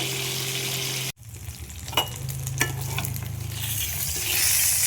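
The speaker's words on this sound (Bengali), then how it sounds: "তো মাছগুলো উল্টে দিলাম, এইভাবে মাছগুলো ভেজে নেব।" Tilapia fish fry in hot oil in a pan, giving a close, continuous hiss and crackle, broken by a sharp cut and a few clinks as the pieces are turned.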